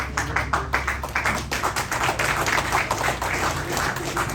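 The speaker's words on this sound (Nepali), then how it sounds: "उहाँलाई सबैले जोरदार तालीका साथ सम्मान गर्नु होला" An audience gives steady, dense applause to a party chairman at a Democratic Socialist political gathering, the clapping continuous and close throughout.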